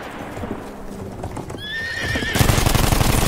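A cavalry horse in the World War I shooter Battlefield 1 whinnies with a rising, wavering neigh, then gallops in with a fast, loud, steady clatter of hooves close by.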